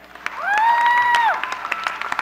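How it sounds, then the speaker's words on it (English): A commemorative vigil audience applauding themselves, short scattered claps under a sustained whistle or cheering tone, fading into sparse clapping. "Give yourselves a round of applause for being here."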